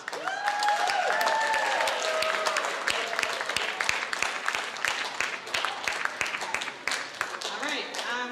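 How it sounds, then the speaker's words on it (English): An audience at a high school spring orchestra concert gives parents a round of applause, a dense, steady wash of many hands clapping that runs the whole time, loud and close, with scattered voices mixed in. "please give your parents a round of applause"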